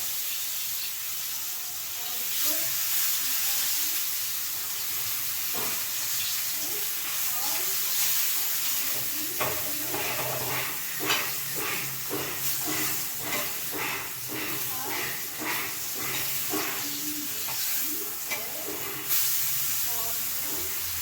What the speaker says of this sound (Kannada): ನಾನಿದನ್ನು ಮೀಡಿಯಮ್ ಫ್ಲೇಮಲ್ಲಿ ಫ್ರೈ ಮಾಡ್ಕೊಂಡಿದ್ದೀನಿ